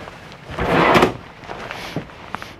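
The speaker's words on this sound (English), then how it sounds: "Pull out drawers." Drawers pulled out from under the booth dinette of a 2010 Rexhall Airbus 310 motorhome, one loud sliding rumble followed by a few lighter knocks and clicks, close and without talk.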